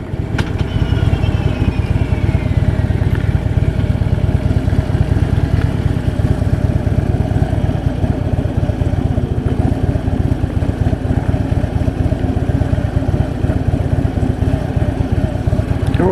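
A 2015 Harley-Davidson FLHTP engine rumbles steadily and loudly at low speed through a slow U-turn, with wind buffeting the microphone throughout.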